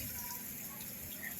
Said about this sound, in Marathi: पाणी मार गपचूप